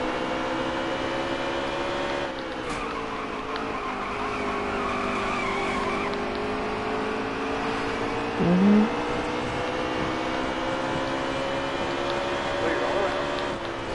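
Race cars roar around the Richmond track in a racing video game, engines droning in a continuous layered whine with a brief tire squeal partway through, while a driver talks over the action.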